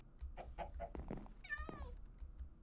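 Minecraft cat meows mixed with chicken clucks in-game, a few short clucks followed by a rising, wavering meow, all fairly quiet with no talking over them.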